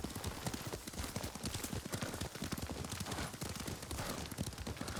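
Horse hooves in the Ghost of Tsushima video game, a steady, fast clip-clop gallop that runs close and loud throughout without pause.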